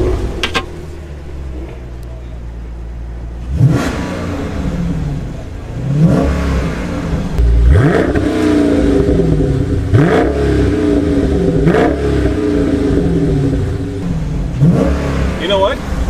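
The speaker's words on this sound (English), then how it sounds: "we can certainly let him listen to a Scat Pack." A 2019 Dodge Challenger R/T Scat Pack's engine revs in a series of loud, near blips with rising and falling pitch, about five separate surges over a steady idling rumble.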